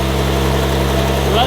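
A Lotus Emira with a Valvetronic titanium cat-back exhaust during a cold start, giving a steady, loud low-pitched idle rumble up close that holds evenly for a second and a half.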